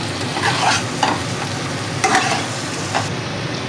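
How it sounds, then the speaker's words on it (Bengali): Potatoes stir-fried in a spice paste with salt and sugar for a Bengali aloo dum, with steady low sizzling and several scraping stirs of a spoon in the pan, close and clear with no talk. "মশলাটার মধ্যে এক এক আলুগুলোকে দিয়ে দেবো"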